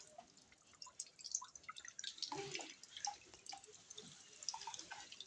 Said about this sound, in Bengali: এই পাশটা কল দিয়ে জল পড়ছিল